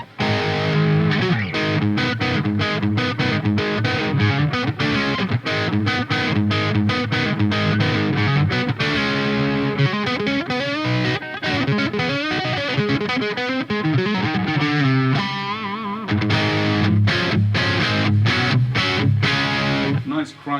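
A Peavey 5150 II amp on its rhythm channel drives a crunchy, high-gain distorted electric guitar through a steady run of loud chugging chords and riffs for about twenty seconds, close and alone, with no talking.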